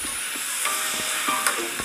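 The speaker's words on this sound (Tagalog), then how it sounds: "bago natin igisa ang ating bagoong alamang" Garlic and onion sautéing in oil in preparation for shrimp paste: a steady, dense sizzle and hiss, close and continuous, with faint stirring scrapes now and then and no voices.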